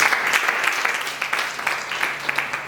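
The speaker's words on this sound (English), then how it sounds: "So I want us to give her a round of applause." Scattered applause rises from a gathering of girls at an ICT day event in Abuja, uneven bursts of clapping that swell and dip rather than holding steady.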